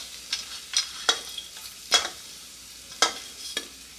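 Whole spices such as cloves, fennel, stone flower and star anise frying in hot oil, a soft hiss with about half a dozen sharp scraping stirs spaced irregularly, close by, no one talking.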